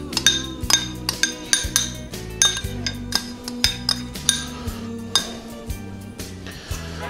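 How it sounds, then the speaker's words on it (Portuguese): A utensil clinks repeatedly against a bowl while mixing hearts of palm for a Christmas dish, steady rhythmic taps close by, with background music. "Vamos misturar."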